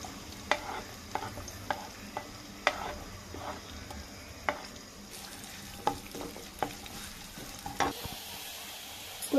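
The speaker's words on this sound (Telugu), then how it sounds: "ఎర్రగడ్డలు వేయించుకుంటాను ఫ్రెండ్స్." Onions frying in oil in a pan, a faint steady sizzle with occasional clinks and scrapes of stirring throughout.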